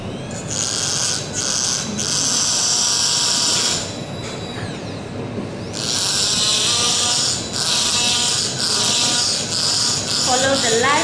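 A dental handpiece trims an acrylic complete denture in a close, steady high-pitched whine that runs in several long bursts with short pauses and pitch dips as the bur meets the material.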